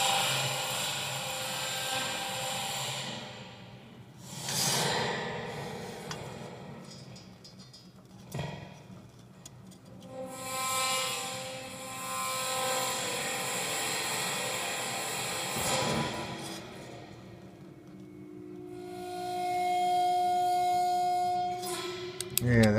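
A spring reverberation unit bowed with an eBow produces sustained metallic drones and shifting resonant tones that swell and fade in waves, with a thin steady tone emerging near the end.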